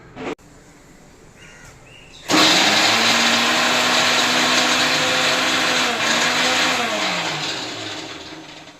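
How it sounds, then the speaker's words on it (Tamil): A mixer grinder grinding chillies kicks in abruptly after a few quiet seconds and whirs loudly and steadily, its pitch dipping slightly before it starts to wind down. "இதை நம்ம மிக்ஸி ஜாரில் அடித்து எடுத்துக்க போகிறோம்."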